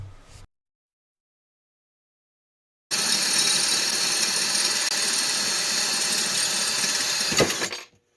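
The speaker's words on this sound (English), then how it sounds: "I guess I'll have to drill out the rivets and move these plates over to the new blower assemblies" A power drill bores out rivets holding the plates on a wood-burning stove's blower fan assembly, a loud steady whine with gritty grinding that starts abruptly after silence and runs about five seconds before cutting off.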